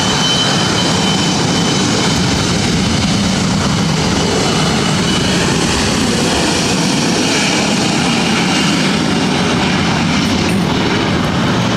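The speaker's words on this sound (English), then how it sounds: "This is Alaska SkyWest 3329, taking off to San Francisco on an E-175" An Embraer E-175 jet operated by Alaska SkyWest rolls for takeoff at LAX, a loud, sustained engine roar that fills the air with broadband rumble and whine, steady throughout with no voices.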